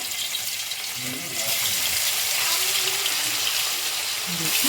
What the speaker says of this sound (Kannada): ಈಗ ಆಯಿಲ್ ಸ್ವಲ್ಪ ಬಿಸಿ ಆದ ತಕ್ಷಣವೇ ಈ ಫಿಶ್ಗಳನ್ನ ಸ್ವಲ್ಪ ಫ್ರೈ ಮಾಡ್ಕೋಬೇಕು